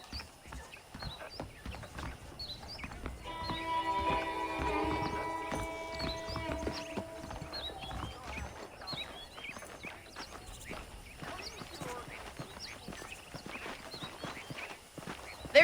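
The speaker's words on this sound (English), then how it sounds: "The horses are saddled up over here." Horse hooves clip-clop steadily at a walking pace in the Western video game Red Dead Redemption, close and clear with a few louder thuds, while soft musical tones rise and fade in the background.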